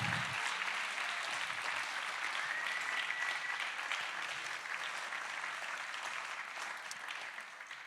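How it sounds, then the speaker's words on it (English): Audience at a science rally claps steadily in a dense, sustained burst of applause that fades slightly toward the end, with scattered cheers in the crowd. "I think you all did a sterling job cheering"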